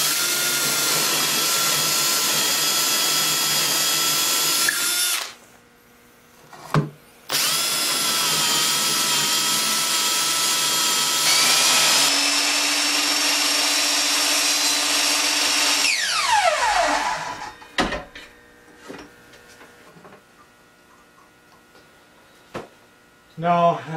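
A power drill boring 5/16 inch dowel holes into wood for a kitchen island table, with two loud sustained whines that stop abruptly, a short burst between them, and quieter clicks and handling after.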